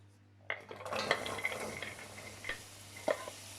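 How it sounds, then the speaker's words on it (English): Carrots and other vegetables in a pan, quiet scattered crackles and clinks as they are stirred, with soft bursts of sizzle over a low background hum. "listen to that lovely sizzle"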